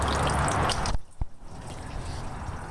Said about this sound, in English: Right now there's just a little drip.